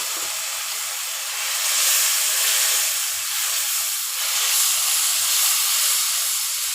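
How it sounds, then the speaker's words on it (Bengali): Water splashed into a pan of onions fried light brown sets off a loud, steady hiss of steam that swells and eases over several seconds, with no talking. "আমি এখন দিয়ে দিচ্ছি এতে অল্প পরিমাণে পানি।"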